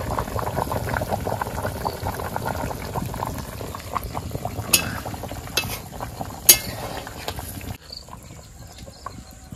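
Gurjali fish curry made with poppy seed and cumin paste boils in a pot with a steady bubbling, and a few sharp clinks come through before the sound suddenly drops near the end.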